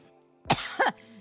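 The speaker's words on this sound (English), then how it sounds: "Got that smoker's cough." Two harsh, close coughs in quick succession, loud and raspy against near silence.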